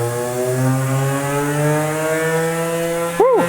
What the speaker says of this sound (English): back to tool 31, which is the 1/4 inch end mill